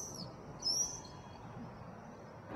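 Faint, high bird calls with a couple of short thin chirps, the clearest one in the middle, over a low outdoor background hum.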